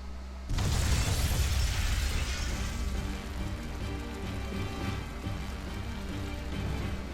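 Stores of flamestone, sulfur and oil blowing up in the role-playing game Tales of Berseria: a sudden loud burst erupts after a quiet moment, then a long crackling, hissing roar of debris and fire that tapers slowly.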